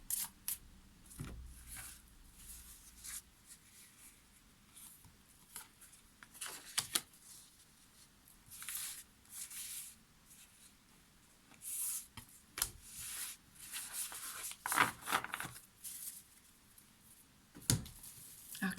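Tarot cards shuffled and drawn from a 44-card deck in an energy reading, giving repeated soft riffles, slides and card flicks in irregular bursts that come close and clear, with no talk.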